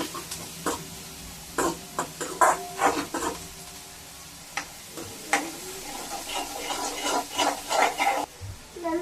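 Ginger garlic paste sautés in a pan for pav bhaji, with soft sizzling under repeated clinks and scrapes of a stirring spoon against the metal, close and irregular.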